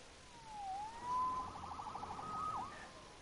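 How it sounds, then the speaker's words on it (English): A police siren in the PS4 Spider-Man game wails with rising and falling electronic tones, steady and fairly loud, with no voices over it. "Saved by the siren."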